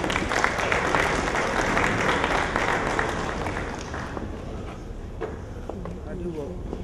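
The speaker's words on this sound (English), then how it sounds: "Round of applause for them." Applause from the audience at the launch of a Nigerian securities market, as two growth ambassadors are honoured. Dense clapping starts loud and thins out over several seconds into scattered claps, with speech mixed in.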